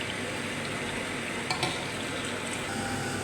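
Food fries in a pan with a steady, close crackling sizzle, punctuated by a couple of brief pops or stirring clinks.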